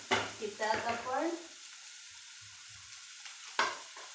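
Chopped onion sizzling and being stirred in a pan while making upma, a brief sizzle with scraping under a short stretch of talk, then quieter frying with a sharp clatter near the end.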